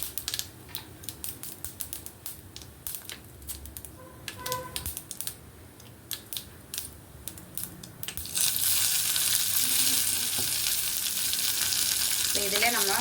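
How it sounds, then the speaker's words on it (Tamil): Faint crackles and pops build to a loud, steady sizzle as curry leaves hit hot oil for tempering, hissing continuously to the end. "கடைசியாக கருவேப்பிலை சேர்த்து நம்ம தாளிக்கலாம்"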